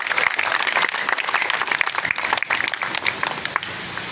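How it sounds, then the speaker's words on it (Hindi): Audience applauds a schoolgirl who topped her matric exams with 1116 of 1200 marks at a welfare trust award ceremony. Dense, steady clapping from a crowd fills the whole stretch, loud and even, with faint voices beneath. "तालियां बहुत सारी बजानी हैं।"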